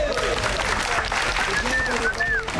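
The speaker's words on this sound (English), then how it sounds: "Give yourself a round of applause." A crowd applauds on the set of a martial arts film production, a steady dense wash of clapping lasting the whole moment, mixed with voices and faint tonal sounds.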